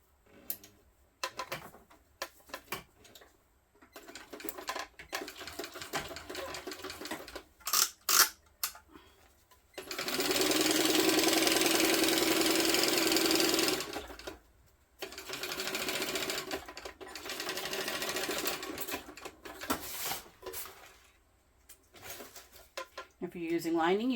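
A home sewing machine top stitches a quarter-inch seam on an Oxbow tote bag, running in short bursts, then one long steady run of several seconds, with someone talking in between.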